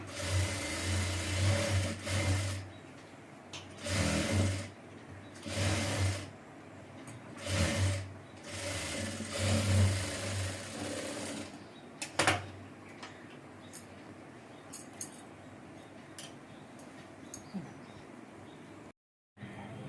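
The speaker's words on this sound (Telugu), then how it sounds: "దీని మీద మళ్ళీ ఇంకో కుట్టు వేసుకోవాలి." Sewing machine stitching an umbrella frock in repeated short whirring runs of a few seconds each with pauses between, fairly close, then quieter handling noise toward the end.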